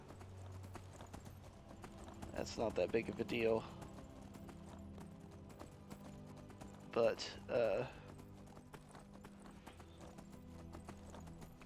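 Horse hooves clip-clop steadily at a walking pace under a Skyrim game soundscape, with someone speaking briefly over the footsteps.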